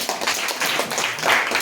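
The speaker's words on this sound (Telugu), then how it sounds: "వెరీ గుడ్, గట్టిగా చప్పట్లు కొట్టండి." Congregation at a church service clapping hard together on cue, a dense continuous burst of applause lasting a moment, loud and close with no voices over it.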